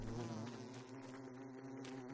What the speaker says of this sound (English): Oh, the bee is here.